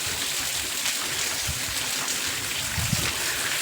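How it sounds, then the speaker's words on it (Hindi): Waterfall pouring from between large rocks into a pool at a sacred site, a steady broadband rush of falling water heard alone, with a few low splashes beneath. "ये वो झरना है जो ऊपर से चट्टानों के मध्य से पानी निकलता है"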